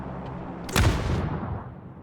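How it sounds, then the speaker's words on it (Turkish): A grenade explodes in the PUBG video game, landing as a single heavy boom that rolls out into a fading rumble over about a second. "Bomba attı biri."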